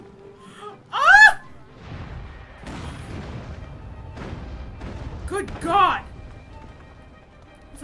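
Two loud bomb explosions go off in the video game Assassin's Creed Syndicate, one early and one later, each a sharp burst with a swirling tail, separated by someone speaking excitedly in between.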